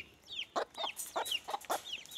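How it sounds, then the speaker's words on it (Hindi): A Sindhi hen clucks in a steady series of short, close calls, about six bursts in quick succession with brief pauses between them. "ये हमारी दूसरी मुर्गी है जो कि सिंधी मुर्गी है"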